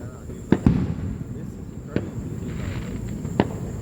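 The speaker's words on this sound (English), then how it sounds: "There's so many fireworks going off." Fireworks bursting during a Fourth of July celebration: three sharp booms spaced a second or so apart, echoing over a constant crowd murmur with voices chattering nearby.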